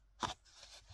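Scissors cut straight through paper for a scrapbooking shaker box: one short, crisp snip close up in a quiet room, then a faint rustle.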